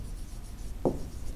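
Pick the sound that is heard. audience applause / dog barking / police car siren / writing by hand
writing by hand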